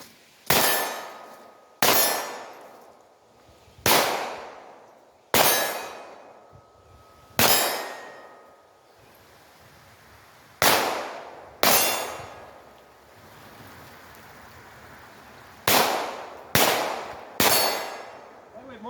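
Sharp shots from a Ruger Mark IV pistol ring off steel targets, about a dozen loud cracks each followed by a bright metallic clang, fired in uneven bursts with short pauses between.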